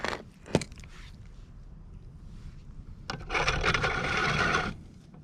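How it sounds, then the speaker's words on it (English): A hand grease gun pumps grease into the ball joint fitting of a 1960s Cadillac or Lincoln steering linkage. Quiet, close creaking and rasping strokes are heard: a short squeak early on, then a longer scraping stretch. "you just press the end of the grease gun into the fitting, and then you just start pumping"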